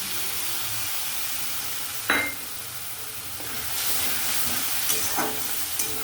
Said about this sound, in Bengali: এটা এবার ভালো করে একটু মিশিয়ে নেব